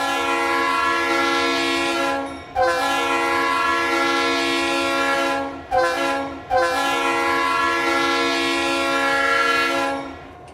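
A GTW locomotive fitted with a P3 or P5 horn in the Ro-Scale rail game, sounding several long, loud, steady blasts with short breaks between them, with the rumble of the passing train underneath.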